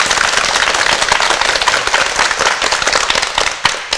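A studio audience at a Korean television lecture breaks into loud, dense applause for the speaker, a sustained rapid crackle of many hands clapping that tapers slightly at the end.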